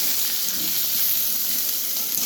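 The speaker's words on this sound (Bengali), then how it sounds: "এই কুচনো পেঁয়াজটাকে এর মধ্যে অ্যাড করব" Chopped onion hits hot oil in a pan for dhaba-style dal fry, giving a loud, steady hiss and sizzle throughout with no voices.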